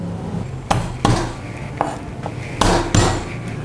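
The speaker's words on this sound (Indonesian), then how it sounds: "Kita cincang halus bawang putih" Garlic being finely chopped with a knife on a board, several sharp, close knocks spaced irregularly, some coming in quick pairs, loud against a quiet kitchen background.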